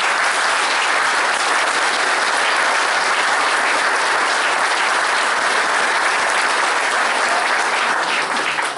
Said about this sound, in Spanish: creo que es aplauso para los dirigentes